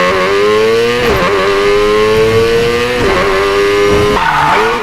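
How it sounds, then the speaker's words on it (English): Tyres screech continuously as a Mazda RX-7 drifts near a garage at an airport in Need for Speed Payback, loud wavering squeal over a revving engine, pitch sliding and dipping with each slide. "we are shredding tyres outside of the garage just at the airport"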